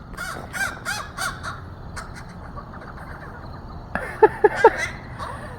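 Crows caw outdoors in a series of harsh calls: a group of repeated caws at the start, a quieter stretch, then several sharper, nearer caws toward the end.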